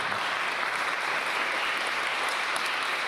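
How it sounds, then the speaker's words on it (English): Audience applauds senior corps volunteers at a mayor's national service recognition event, an even, steady wash of clapping throughout. "Let's give them a nice round of applause"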